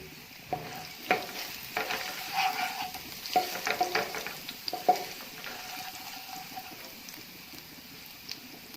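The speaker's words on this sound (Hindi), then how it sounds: "अब मैंने इसमें ऐड किया है 1/2 टीस्पून जीरा और इसको अब हम अच्छे से भूनेंगे।" Garlic and cumin seeds fry in hot oil, giving a close, bright sizzle broken by quick spatula scrapes and taps against the pan, which thin out toward the end.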